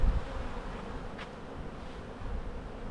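Honey bees drone in a steady, dense buzz around an opened hive entrance, with a continuous close hum and one brief louder pass from a single bee.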